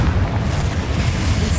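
Confringo blasting spell exploding in Hogwarts Legacy, a dense, loud, low booming rumble that holds steady through the short moment with no clear pauses.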